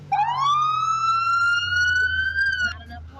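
Police siren in the video game GTA San Andreas, a single rising wail that climbs and holds for nearly three seconds before cutting off abruptly, loud and close over low engine rumble.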